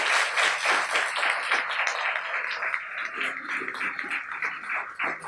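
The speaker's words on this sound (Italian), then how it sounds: "Un applauso." An audience at a Romics 2019 convention panel on Attack on Titan applauds continuously, dense clapping of many hands that stays loud and steady throughout, with no talk over it.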